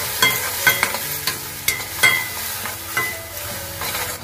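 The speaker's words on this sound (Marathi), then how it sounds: "चांगला मसाला ना तेलामध्ये चांगलं परतून घ्यायचा" Kashmiri chilli and tomato masala paste frying in oil for a Konkani pomfret curry, loud close sizzle broken by repeated scraping stirs of a spoon against the pan, no voices.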